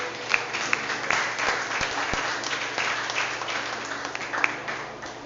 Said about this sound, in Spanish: Vamos a dar un fuerte aplauso a Dios.